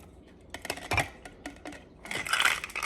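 An Old Forester cocktail, mostly spirits, is poured from a metal shaker tin into a glass: close, sharp clinks and rattles of ice against metal and glass in uneven bursts, busiest at the end.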